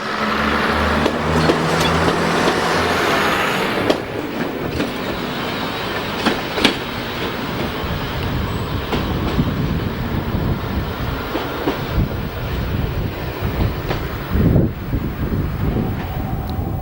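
A British Rail Class 101 diesel multiple unit pulls away from Llandudno, its diesel engine droning loudly with rumbling wheels and rail clatter, plus some wind buffeting on the microphone.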